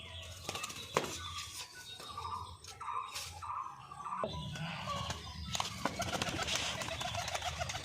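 A young female pigeon coos amid other birds in a mixed, busy setting, with people talking nearby and rustling and clatter around the calls.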